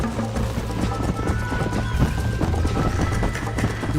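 A horse gallops in the video game Red Dead Redemption, with rapid rhythmic hoofbeats, close and loud, running continuously under game ambience with a brief whinny-like tone.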